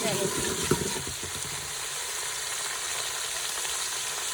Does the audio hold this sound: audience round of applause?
no